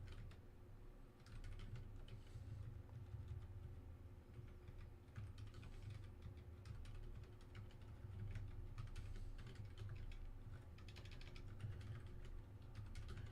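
Someone types on a computer keyboard with a steady, faint patter of key clicks over a low hum, and no one speaks.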